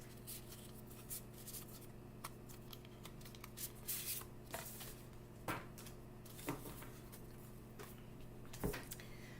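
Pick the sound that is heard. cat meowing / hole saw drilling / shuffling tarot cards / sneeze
shuffling tarot cards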